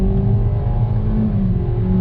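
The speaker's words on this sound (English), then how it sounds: "on throttle with the naturally aspirated engine" A 2021 Kia Seltos S small SUV with a naturally aspirated engine and CVT accelerating on throttle, a steady low engine drone with a rising whir heard from inside the cabin, no speech.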